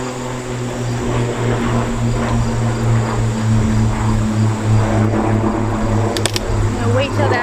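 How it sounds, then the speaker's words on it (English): A propeller airplane drones overhead near a small airport, a loud steady engine hum with a pulsing low tone that fills the whole stretch with no talk. "I apologize for the airplane noises"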